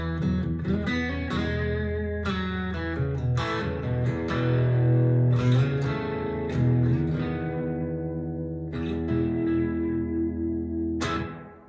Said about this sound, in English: I also had the plate reverb from my Mercury 7